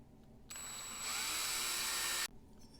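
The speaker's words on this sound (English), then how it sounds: "The posts are pretty tall, so we'll just drill slowly." A power drill whines steadily while boring slowly into the posts of a Matchbox Chevrolet Impala Taxi model, starting abruptly, rising slightly in load, then cutting off after almost two seconds.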